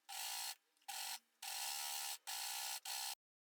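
A sewing machine finishing the fabric edges of a wrap top runs in several steady, loud stitching bursts of varying length, separated by brief pauses, then stops into silence.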